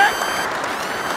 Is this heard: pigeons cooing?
no